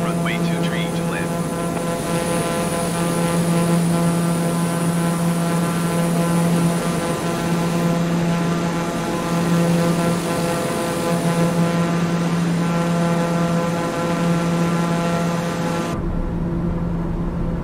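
A propeller airplane on final approach to runway 23 in a flight simulator drones steadily and loudly, its engine hum constant, with a voice making a radio call over it before the sound cuts off abruptly near the end.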